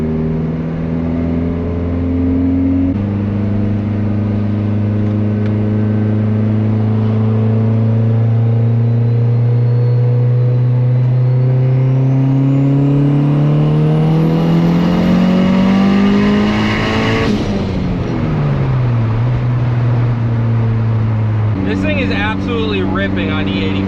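A turbocharged Honda Civic engine revs hard with anti-lag, its pitch climbing steadily then dropping off sharply before rising again, loud and close, with crackling bursts near the end.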